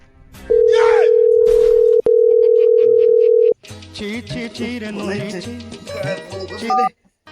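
A loud, steady telephone dial tone hums for a few seconds, broken once by a brief click, then gives way to a jumble of other tones and noise.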